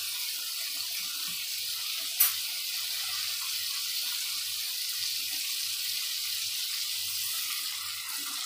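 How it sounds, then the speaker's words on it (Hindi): White chickpeas tipped into a hot cooking pan for a curry: a steady, close hiss of sizzling oil and moisture, with a single sharp clink near the start, then continuous frying sizzle. "तो अब मैं इसमें ये डालूंगी चने।"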